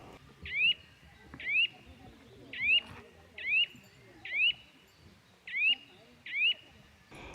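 Birds call across Tashiro marsh in Kamikochi, in the Japanese Alps: seven short, rising calls spaced about a second apart, clear and moderately close over a quiet, faintly rustling background.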